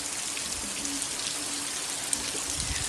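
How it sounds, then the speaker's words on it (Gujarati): Steady rain falling, a continuous hiss of drops on surfaces with no voices, fairly close and even throughout. "ફેમિલી વરસાદ જુઓ, સવારમાં ફૂલ આવી ગયો"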